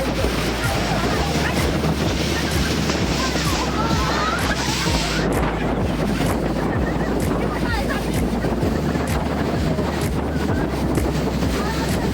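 A speed boat runs on open water at a resort, its motor droning steadily beneath heavy wind buffeting and splashing water, with a constant low rumble throughout.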